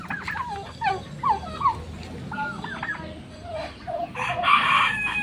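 Several roosters crowing and clucking on a small family farm, a mix of overlapping crows at moderate distance, growing louder toward the end, with faint outdoor background.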